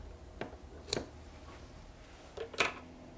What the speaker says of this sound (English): Then take it and fold it in half going the other way and then cut it in half.